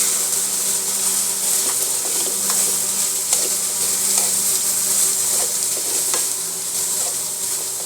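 Vegetables and mushrooms for chow mein (pancit canton) sauté in a hot pan with a loud, steady close sizzle throughout, broken by occasional scrapes and taps of a stirring utensil, with no talking.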